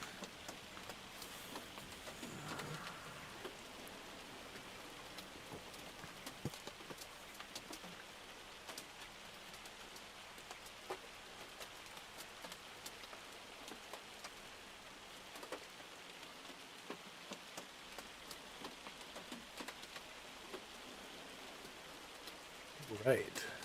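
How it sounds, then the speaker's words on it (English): Hail drums on a vehicle in the Farming Simulator video game, a faint, steady patter of many small hits across the whole stretch with a slightly louder knock at the very end. "Hoping you can hear that hail hitting off of my vehicle because it's pretty loud in my headset."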